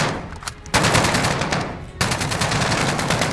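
Rapid automatic gunfire in the Call of Duty video game: two loud, sustained bursts of shots, the second starting after a short lull, with no talking.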